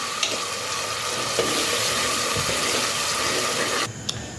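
Onion and a medium tomato sauté for misal in a pressure cooker, producing a loud, steady, close sizzle with occasional stirring scrapes before it drops off abruptly near the end, no talking.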